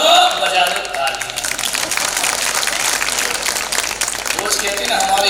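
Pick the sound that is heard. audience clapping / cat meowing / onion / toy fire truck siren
audience clapping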